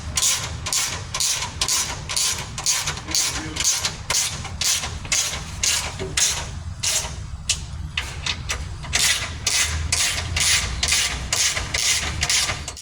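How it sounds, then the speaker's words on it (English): Rear bolts of a bash plate being tightened under a Toyota 200 Series, a steady run of rapid ratcheting clicks repeating throughout over a low engine-like hum, fairly close and continuous with no talk. "now we can fully tighten the rear bolts"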